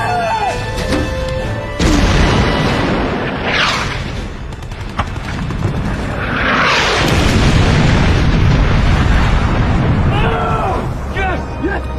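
Ship's guns firing and shells exploding in an Atlantic naval war film, heavy booms and rumbling blasts rolling over roughly twelve seconds, loud and close, with shouted voices mixed in.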